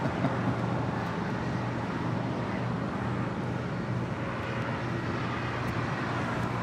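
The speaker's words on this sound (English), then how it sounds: "Turkish Airlines Flight 9 coming in from Istanbul on the Streamliner" A Turkish Airlines airliner on its arrival into Los Angeles International Airport, a steady broad roar of engine and rushing air held at a constant level throughout, with no voices over it.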